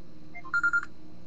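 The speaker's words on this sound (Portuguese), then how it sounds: "Vou atender essa porra do telefone" A telephone rings in a quiet room with a short burst of three quick, evenly spaced electronic beeps at close range. No one speaks.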